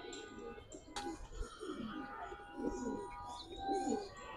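Pigeons of an Indian breed coo softly in repeated low, throaty bursts, fairly close, with chirps and faint background noise around them.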